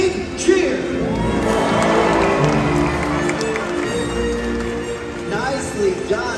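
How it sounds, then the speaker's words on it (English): An audience at a SeaWorld Orlando orca show cheers and whoops loudly for the orca Malia's jump, a sustained crowd roar with children shouting, rising and falling over about six seconds, with a voice heard through it. "let's give her a great big cheer"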